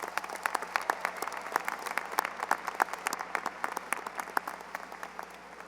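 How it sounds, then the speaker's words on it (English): Steady applause from a graduation audience at Stevenson High School for the band and senior honors choir, dense crowd clapping with sharp individual claps throughout, moderately loud and sustained. "Please give them a round of applause"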